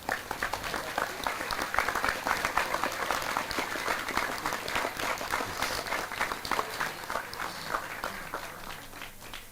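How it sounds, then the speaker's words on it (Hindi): An audience at an Indian youth talk on attraction to the opposite gender breaks into sustained applause, dense rapid clapping from many hands filling the room for several seconds, fairly close and loud, with no one speaking over it. "इसलिए ताली बजवाई"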